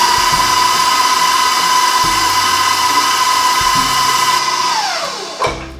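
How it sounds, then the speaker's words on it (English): An electric mixer whirs loudly and steadily, close up, while mixing chocolate peanut butter cookie dough, then winds down and stops with a brief clunk near the end. "Let's go ahead and turn on our mixer again to get everything incorporated together."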